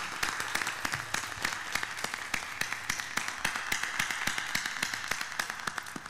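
An audience at an evening classical music recital applauds the performer with steady, fairly quiet clapping from a modest crowd, a few sharper claps popping out of the continuous patter.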